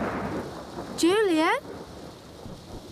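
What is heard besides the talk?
thunderstorm with heavy rain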